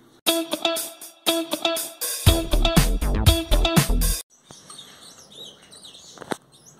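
An agitated green-winged saltator (trinca-ferro) flutters and flaps its wings in bursts, with sharp clattering and knocking in a cage-like setting, followed by quieter rustling and a couple of faint clicks.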